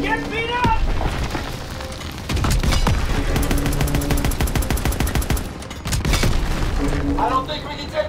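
Battle in the World War II video game Call of Duty WWII, with German Panzer armour: dense bursts of gunfire and booming explosions roll on almost continuously and loudly, with brief lulls, under shouted combat voices.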